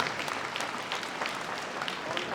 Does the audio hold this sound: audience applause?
yes